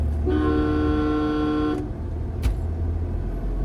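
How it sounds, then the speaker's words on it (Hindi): A steady car horn blares for about a second and a half over a running engine, then stops, leaving the engine hum. "हॉर्न भी मैंने यहीं से बजा दिया।"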